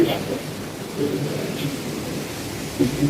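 Heavy rain pours down in a steady hiss, with a low thunder rumble rolling beneath it for a few seconds.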